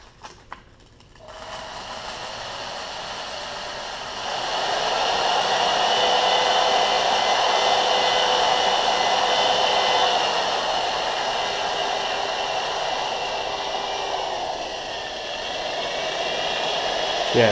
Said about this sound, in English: Now we just need to sand the front a little bit.